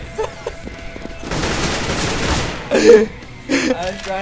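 A burst of gunfire in a shooter video game, a dense loud volley lasting about a second after some scattered shorter sounds, with loud voices cutting in near the end.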